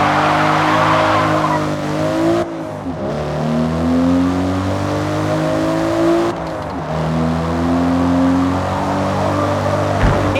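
A race car engine in the Forza Motorsport video game revs loud and steady, pitching up through two upshifts with brief dips near 2.5 and 6.5 seconds, tire squeal threading through, no voices.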